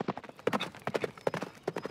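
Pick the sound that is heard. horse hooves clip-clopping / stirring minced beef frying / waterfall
horse hooves clip-clopping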